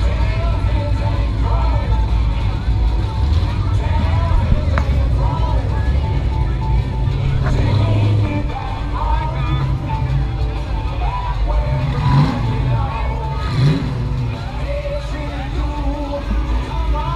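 Cars rolling past in a street car parade at Old Town, including a Ford Mustang, a steady low engine rumble under crowd chatter and a loudspeaker voice, continuous and fairly loud.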